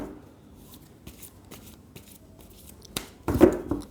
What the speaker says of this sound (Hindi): I would like to shuffle again.